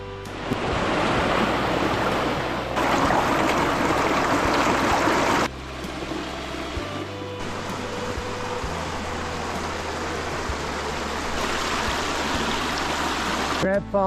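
Steady rushing river water flows continuously in the Porcupine Mountains, Michigan, a broad close wash of sound with some wind buffeting and shifts in level.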